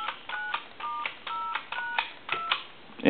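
A Mickey Mouse novelty telephone dials a number as a quick series of about a dozen short dual-tone beeps, evenly spaced and clear, with a faint hum between them.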